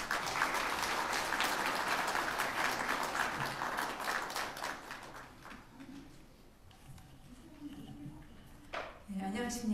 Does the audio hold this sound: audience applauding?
yes